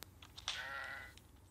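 A goat in a video game lets out a single bleat of about half a second, with a wavering, harmonic tone. It is clear and fairly close over faint background noise, with soft clicks and small noises around it.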